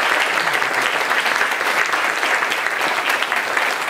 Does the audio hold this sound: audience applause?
yes